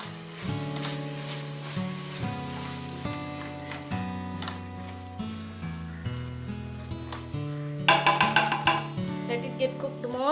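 Tomatoes sizzling in a pan for a prawn biryani, a soft frying hiss under loud background music, with a brief burst of scraping and clinking as the mixture is stirred near the end.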